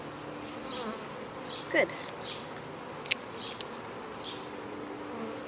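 Honey bees buzz steadily around an open hive during an inspection, a soft close drone with a few sharp clicks, and a voice speaks briefly.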